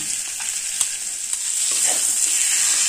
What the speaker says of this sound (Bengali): এবার এই সর্ষে, পোস্ত, কাঁচা লঙ্কা বাটাটাও সজনের ডাঁটার সঙ্গে 1 মিনিট কষিয়ে নেব।